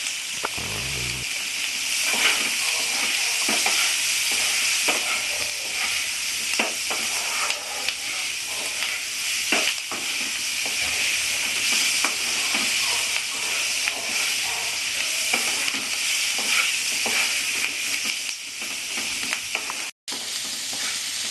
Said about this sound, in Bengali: আলু পেঁয়াজটা ভালো ভাজা হয়ে গেছে